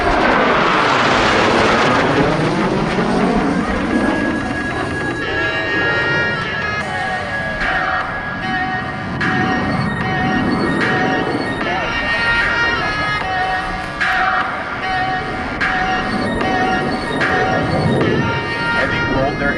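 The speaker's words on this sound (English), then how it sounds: "Blue Angels 5 and 6 are approaching the flight line at 400 miles per hour." Two Blue Angels jets roar past at an airshow, a loud sweeping whoosh that peaks early then trails into a rumbling drone, with an announcer talking over the noise.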